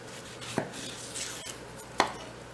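A knife cuts the top off an onion on a board while a cottage pie is prepared. Two distinct close chops are spaced about a second and a half apart in a quiet kitchen, with no talking.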